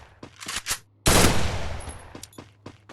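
MP40 submachine gun firing in a video game: a few short shots, then one loud sustained automatic burst that trails off, all close up.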